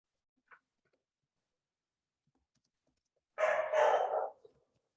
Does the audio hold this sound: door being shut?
no